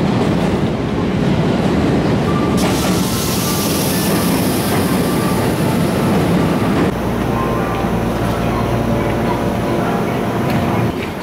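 Hello Kitty-liveried Haruka No. 18 limited express train bound for Kyoto at platform 4, a loud steady rumble and hum of the train filling the scene with station ambience and a shift in tone partway through.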